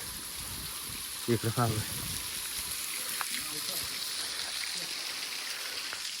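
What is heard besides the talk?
flowing water stream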